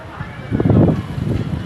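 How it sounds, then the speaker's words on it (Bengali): Strong wind gusting against the microphone, a low buffeting roar that swells for about a second and then eases to a steady rumble. "অনেক বাতাস"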